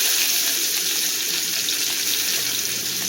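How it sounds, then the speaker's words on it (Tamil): Onions fry with mustard seeds in a pan for brinjal curry, giving a loud, constant, close sizzling hiss with no breaks. "வெங்காயம் நல்லா வதங்கணும்."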